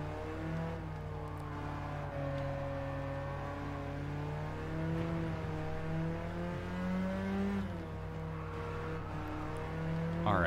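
Racing car engines in the video game Gran Turismo 7 during a Japanese Clubman Cup 550 race, a steady close engine drone shifting pitch with gear changes and revs, alone and continuous.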